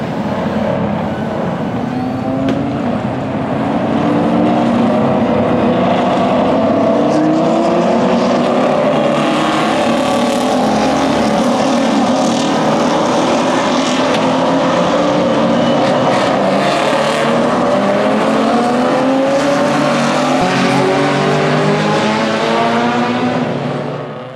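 Race cars roar past continuously at Road Atlanta during the Petit Le Mans weekend, a loud sustained engine wail with rising and falling pitch sweeps as several cars accelerate and pass close by.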